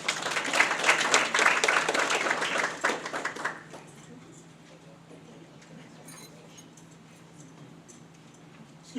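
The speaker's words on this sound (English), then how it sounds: "Let's give them all another round of applause." Audience applause at a school district board meeting, a burst of clapping for about three and a half seconds that then fades into quiet room noise with a faint hum.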